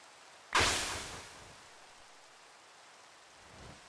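Rain falling in a modded Minecraft game: a sudden loud wash of noise bursts in, like a thunderclap, then fades into a soft, steady hiss of rainfall with faint low rumbles.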